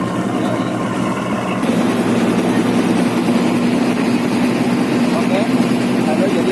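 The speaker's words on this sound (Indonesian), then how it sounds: "kita ini sedang di kapal di atas pompong" A pompong, a small passenger boat on the water near Batam, runs its engine as a constant loud drone that thickens partway through, with faint voices underneath.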